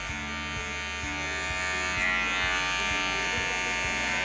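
Hair clippers set to zero with a half guard hum continuously close by while polishing a fade haircut, a steady electric buzz with a faint repeating pulse and no talk.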